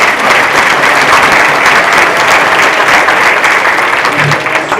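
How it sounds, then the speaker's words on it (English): Loud, dense applause from an audience at an education panel event, steady clapping sustained throughout without a break. "I think that they really deserve a big applause from all of"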